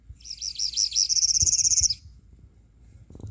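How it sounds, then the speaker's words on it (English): Northern parula song, type B1, played back from a warbler app: several high, buzzy looping notes that run into a fast, rising trill and end abruptly, close and clear over faint low rumble, with no talk. "the northern parula type B1,"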